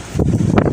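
Strong gusts buffet a phone microphone outdoors in very windy weather, producing a loud, continuous low rumble that swells in pulses across the short stretch, with no voices.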